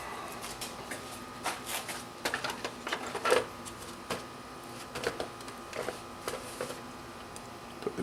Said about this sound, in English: I'll put the unit upside down so I can put the bottom case back on it.